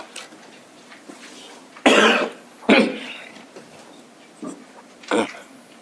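Several separate coughs from people in a city council meeting room, a couple of louder bursts among fainter ones, spread irregularly over a quiet background.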